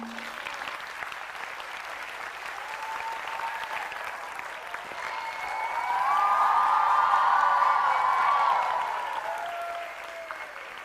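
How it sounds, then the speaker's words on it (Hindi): A quiz-show audience applauds loudly, a sustained wash of clapping that swells in the middle with some whoops and cheers riding over it, then eases back down. "पहले तो एक बार जोरदार तालियां बजाएं आप।"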